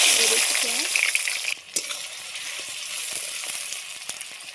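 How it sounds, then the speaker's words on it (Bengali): Onions frying in a pan after dried red chillies and bay leaves, a steady broadband sizzle with a brief dip partway and a few scraping stir sounds, close and continuous with no talk. "পেঁয়াজ ভাজা হয়ে গেছে"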